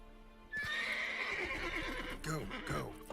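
A horse in The Witcher 3 neighs loudly with a long, bright whinny, followed by a few hoof clops close up, with no talk over it.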